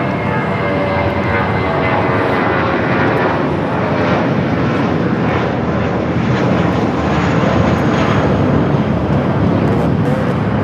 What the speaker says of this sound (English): This is United Airlines 319 taking off to Puerto Vallarta on the A320